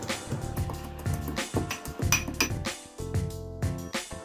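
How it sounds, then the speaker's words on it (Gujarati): Ginger and chili masala pounded into paste by hand, a steady run of sharp clinking knocks in quick uneven rhythm, close and fairly loud. "હવે આને આ રીતે ખાંડી લેશું મસાલાને।"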